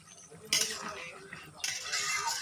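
A pot of young jackfruit and prawn curry with yogurt is stirred in two quick bursts of metal spoon scraping and clinking against the pot, with faint background noise between them.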